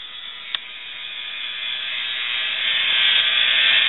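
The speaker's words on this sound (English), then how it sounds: "This is a Marby heat embossing tool. I use it a lot." A Marby heat embossing tool runs with a steady, loud fan-driven whirring hiss, one small click near the start, the tone holding and building gently throughout.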